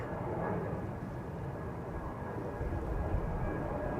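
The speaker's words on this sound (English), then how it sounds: "EasyJet A320 going to Bristol" An EasyJet Airbus A320 airliner departs Schiphol Airport bound for Bristol, a steady distant jet roar rumbling low and even throughout.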